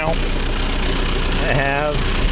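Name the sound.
New Holland tractor engine idling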